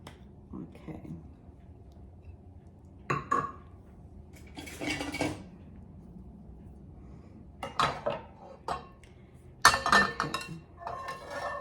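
A pan and metal utensils clink and clatter on a stove while cooking scrambled egg tacos with corn tortillas, in scattered sharp metallic taps and scrapes amid quiet pauses, close by.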